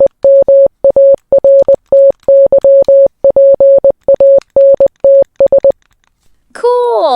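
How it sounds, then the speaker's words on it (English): Rapid sequences of short and long steady-pitched beeps tap out Morse code, loud and clear, followed by a brief voice. "Well, I just happen to have my telegraph here with me."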